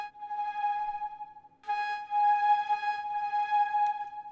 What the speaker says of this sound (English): Nothing too quirky to it, just a simple flute VST.